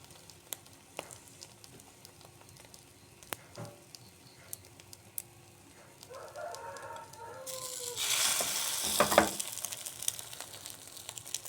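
Bread dipped in beaten egg fries in a hot pan. A soft sizzle swells into a louder, steady hiss in the second half, heard close with no talking.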